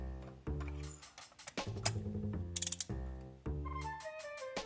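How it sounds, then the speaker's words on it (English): A torque wrench ratchets down a spark plug to 20 foot-pounds on a Chrysler 300 engine, giving bursts of close, sharp metallic clicking in several short runs with pauses between them. "we'll just go ahead and torque it down. We're torquing it at 20 foot-pounds"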